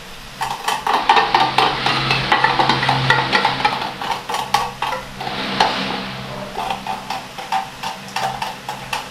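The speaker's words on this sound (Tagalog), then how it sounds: "Hahalo natin lahat to." A utensil stirs a bread mixture with condensed milk in a bowl, giving a rhythmic run of close, repeated clinks and scrapes throughout, no talk.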